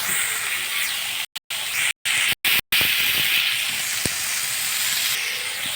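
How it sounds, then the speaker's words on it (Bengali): Potatoes frying in a pan with a steady, bright sizzle, close and continuous, briefly cut by a few short gaps of silence, a faint thump near the end. "দেখো আমি অল্প করে আলুটা ভেজে নিলাম"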